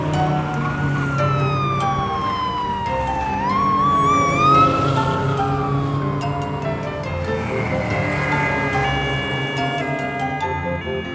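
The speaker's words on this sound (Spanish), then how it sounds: "Coche de policía." Police car siren from a children's cartoon about ride-on toy cars, a rising and falling wail that sweeps steadily over a bed of bright music, loud and continuous throughout.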